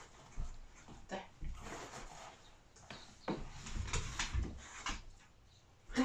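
Dog named Ziggy being trained to pick up objects on command, giving soft whimpers and short yips in bursts among shuffling sounds, quiet and close.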